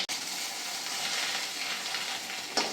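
Pieces of bata fish fry steadily in hot oil, a dense continuous sizzle close up with no talk, ending in a brief clatter near the end.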